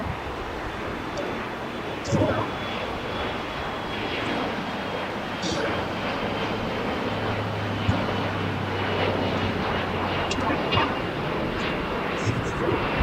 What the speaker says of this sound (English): that Air Canada that crossed in front of the Qantas there, that is Air Canada Flight 791 coming to us from Toronto on an A321-200